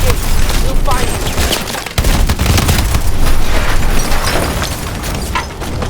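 Tank main gun and rocket fire in the Call of Duty: Advanced Warfare video game, a loud, dense barrage of rapid gunfire bursts and booming impacts that continues without pause.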